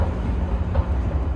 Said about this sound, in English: then the other train goes around us